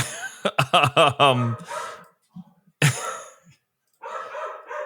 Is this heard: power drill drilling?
no